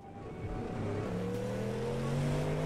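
Race car pulling out of the pit lane in iRacing on a wet track, engine drone steadily rising in pitch and loudness as it accelerates, close and continuous with no speech.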